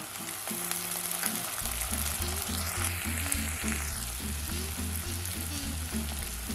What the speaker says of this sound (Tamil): வெங்காயம் வதங்கிடுச்சு. அடுத்ததாக கட் பண்ணி வச்சுருக்க தக்காளி சேர்த்துடலாம்.